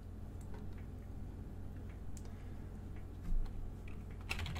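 Keys clatter on a computer keyboard in light, quiet taps, a few scattered strokes and a brief quick burst near the end, with no talk.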